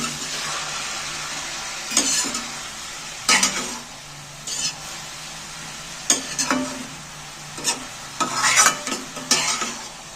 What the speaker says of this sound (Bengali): এবার আমি মিক্সড করে দিচ্ছি ভালো করে নেড়ে